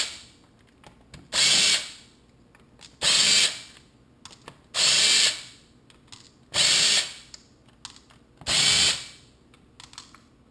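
Power driver removing screws from an 18.2 GB, 15,000 RPM server-grade hard drive, with five loud close whirring bursts of about a second each separated by quiet pauses and small clicks.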